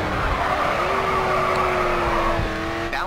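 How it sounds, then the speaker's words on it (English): Tires skid and squeal as a car drifts through a corner in a racing video game, a steady, loud screech held over engine drone for about three seconds before easing off near the end. "Next corner, let's see a drift."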